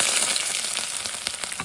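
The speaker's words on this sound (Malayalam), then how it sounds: "കടുക് പൊട്ടി" Mustard seeds spluttering in hot olive oil in a pan while a Kerala-style sweet lemon pickle is made, a dense, close crackle of tiny pops over a steady sizzle.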